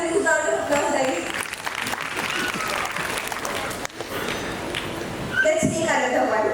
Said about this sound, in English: Give her a huge round of applause, guys.